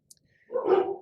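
A dog lets out a deep, heavy bark that swells up loud and close after a faint click and near silence, then holds for about half a second.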